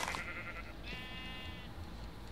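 Sheep in Minecraft bleat with one clear wavering call after a brief higher bleat at the start, over a faint steady background.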